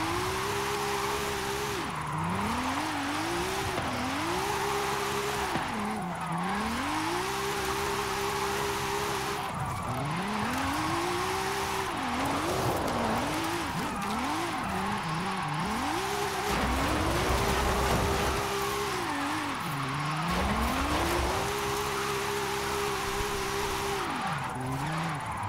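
Jaguar XKR-S GT racing in Forza Horizon 5, its engine repeatedly revving up through gears with rising pitch sweeps and sharp drops on shifts, steady and loud throughout with brief tire noise.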